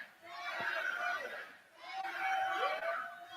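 A large crowd at a politician's speech chants his name in two swelling waves, a distant roar of many voices rising and fading, with no speech over it.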